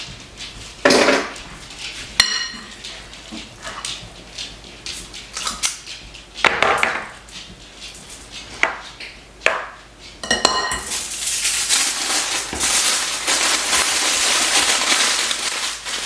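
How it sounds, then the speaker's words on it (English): A big cookie scoop drags and knocks against a bowl as filling is portioned onto foil sheets, with scattered clinks, scrapes and thuds, then a louder, continuous rustle of crinkling foil toward the end. "I'm going to use my big cookie scoop to scoop this out"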